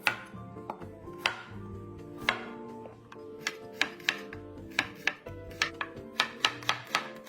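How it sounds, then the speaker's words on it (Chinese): A knife slices shallots into thin slices on a board, giving a quick run of sharp, close chops that speed up into a steady rhythm in the second half, with no talk. "小红葱100克，切成薄片"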